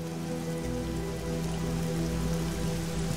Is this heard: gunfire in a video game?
no